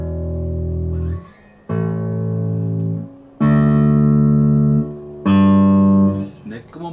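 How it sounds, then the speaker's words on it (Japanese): Four sustained low bass notes on the open strings of a 1977 Greco PB-500 Mercury Bass, a Precision-type bass, ring out one after another, each held for about a second with short gaps, clean and close. "音まず開放弦で"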